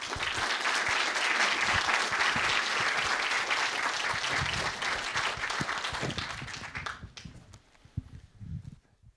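An audience at a Yale award ceremony applauds to welcome the Academy President, steady loud clapping from many hands that thins out and fades into a few scattered claps near the end.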